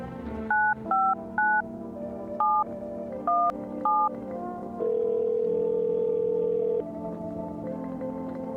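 In a video game, a telephone keypad dials a neighbor's number with six short touch-tone beeps in an uneven rhythm, then a longer steady tone, clear and close over a quiet background hum.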